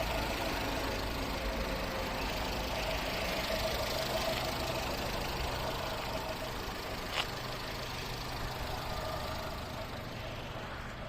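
A 2008 Skoda Octavia A5 1.4 MPI engine idles evenly with a steady fan-like hiss of climate control running over it.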